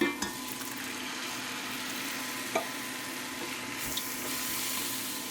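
Tomatoes going into a hot pot for vegan cabbage roll soup made with Impossible meat, a steady soft sizzle with a few light knocks and stirring sounds throughout.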